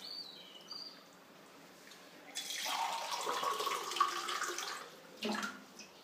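A glass of water poured into a pot holding chicken liver, starting quietly and then rushing steadily for a few seconds before a brief final splash, close and clear with no talk.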